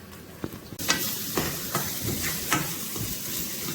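Onions and garlic sautéing in sesame oil for vegan Korean japchae, a quiet start that jumps into a close, steady sizzle with several sharp stirring clacks.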